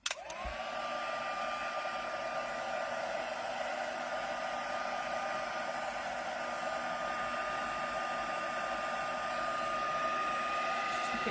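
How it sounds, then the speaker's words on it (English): Heat tool blowing on a handmade mixed media slimline card, a steady loud whooshing hiss with a whining motor tone that starts abruptly and runs unbroken. "So then I'm just going to heat set this."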